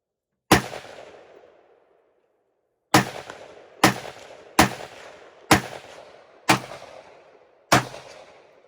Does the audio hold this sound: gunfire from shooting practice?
yes